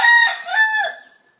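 A single rooster crows once, loud and close, a short cock-a-doodle-doo that rises and then trails off, alone with no other sound.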